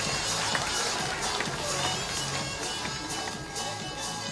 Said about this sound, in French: Alors on peut l'applaudir encore très fort,